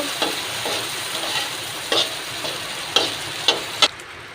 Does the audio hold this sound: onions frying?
yes